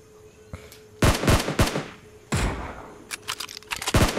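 Gunfire in Battlegrounds Mobile India: loud, close bursts of several rapid shots with short gaps between them, followed by a heavy thump and a few quicker shots near the end.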